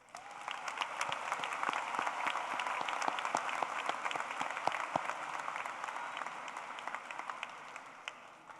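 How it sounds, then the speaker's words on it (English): Graduation ceremony audience applauding families at a high school commencement, a sustained wash of many hands clapping with sharp individual claps standing out, steady throughout and somewhat distant in a large venue. "Please give a round of applause to all of our families."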